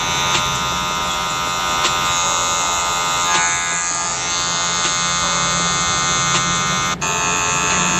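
Electric hair clippers cut a men's fade, working with the corners or half of the blade. They give a steady, close, bright buzz that runs unbroken for the whole stretch, with only slight dips as the blade shifts, and no talking.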